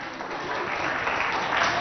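Applause and cheering for two pupils at a school games event, a steady crowd clapping that grows slightly stronger toward the end.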